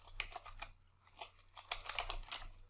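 Someone types data entries on a computer keyboard, making irregular clusters of soft, close key taps with short pauses between bursts and a faint steady hum underneath.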